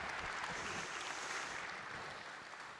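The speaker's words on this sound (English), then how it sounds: "So let's give them one more big round of applause," An audience at an Earth & Space on AWS talk gives a round of applause, a soft, even patter of many hands that gradually fades, heard at a distance without any talking.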